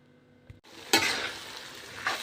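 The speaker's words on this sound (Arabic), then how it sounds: "بصوا يا حبايبي، التقلية داخلة على سوا اهي" Onions sizzle in hot oil for Egyptian koshari, a steady close frying hiss with a sharp burst as they hit the pan and occasional stirring swells.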